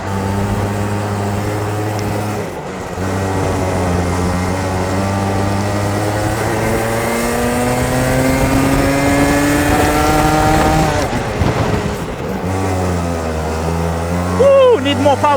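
A racing car with a cold DMax engine roars in a racing video game, its steady revving tone climbing in pitch through each gear. Brief dips mark the gear changes, and the engine stays loud and close throughout.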